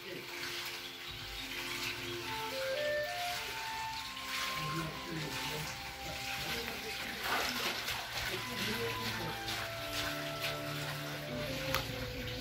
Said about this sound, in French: La fontaine alimente en permanence le lavoir